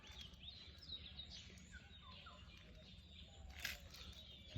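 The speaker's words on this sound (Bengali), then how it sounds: "চারিদিকে পাখির ডাক" Birds calling around an isolated forest bungalow near Dudhwa tiger reserve at dawn, with scattered chirps and a brief flutter of wings over a steady low background hum, fairly faint and distant.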